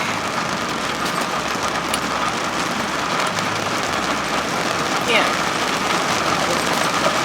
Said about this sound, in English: the rain is coming down really hard though.